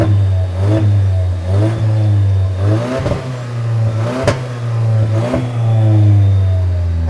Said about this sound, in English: Let's fire this thing up and hear the exhaust.